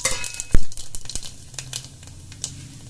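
Whole garam masala spices, including biryani cumin, hit hot oil in a pressure cooker with one sharp splash, then sizzle and crackle steadily and close, with a few light stirring scrapes.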